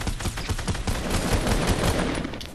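Dense, continuous gunfire from a Fortnite Battle Royale match, with rapid overlapping shots forming a loud, sustained fusillade that runs the whole stretch without pause.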